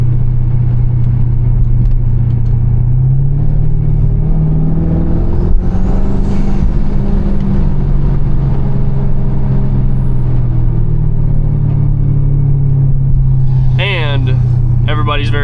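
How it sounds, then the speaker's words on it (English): A twin-turbo 5.7-litre Dodge Charger engine idles and runs with a steady, loud low rumble throughout, nearby. Brief higher, airy turbo-like sounds come in near the end. "Everybody's very confused when they hear turbo noises coming from a Dodge Charger."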